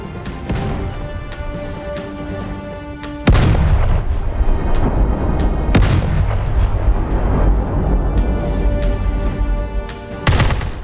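Battleship main guns boom in the Roblox naval combat game Naval 1945, with heavy, loud blasts that roll on into a continuous rumble and crackling. Fresh sharp reports break in every few seconds, and no voices are heard.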